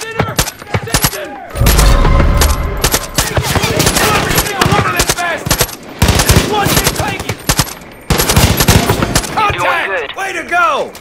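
Heavy automatic gunfire and scattered single shots from a Far Cry 5 firefight, loud and close in repeated bursts, with in-game voices shouting over the shooting.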